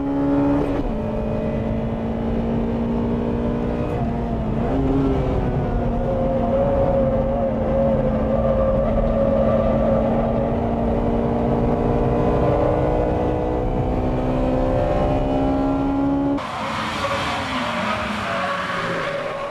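A Mazda RX-7 and other race cars scream past on a circuit in a seven-lap race, steady high-revving engine whine with shifting pitches, a brief lift near the middle and an abrupt change to a harsher, closer roar near the end.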